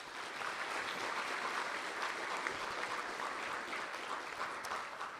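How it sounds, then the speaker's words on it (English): Applause at a public event in Monticello, Arkansas, a faint, distant, even patter of many hands clapping for several seconds with no speech. "Could you give her a round of applause, please?"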